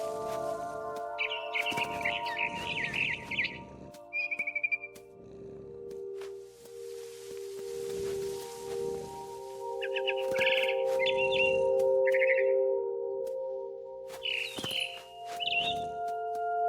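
Barn swallow chirping in the video game What Remains of Edith Finch, bursts of bright twittering calls repeating in short phrases over a low steady ambient hum, with quiet gaps and faint rustling between them.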